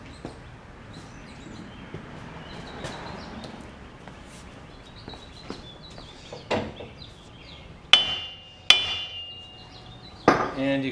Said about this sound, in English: Actually, use the sledgehammer just to make sure it's seated.